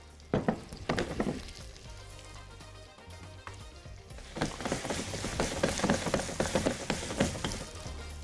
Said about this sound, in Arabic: هنا الزيت بتاعي سخن، ابتدي انزل بلسان العصفور بتاعي